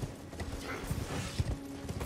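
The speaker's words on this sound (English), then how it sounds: "now press B to dash on the horse" A horse gallops in the video game Elden Ring, a quick run of soft repeated hoofbeats in a steady rhythm at moderate loudness, with no speech.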